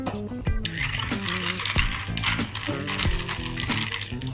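A spoon gently stirs a gin and tonic in a glass, giving repeated light clinks against the glass and ice with soft liquid swirling between them, close and fairly quiet.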